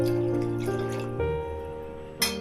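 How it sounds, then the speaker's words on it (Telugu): Water pours steadily into a pressure cooker holding mango, tomato and chilli pieces for mango dal, a continuous ringing stream with a brief splash near the end. "కొంచెం వాటర్ వేసుకోవాలి."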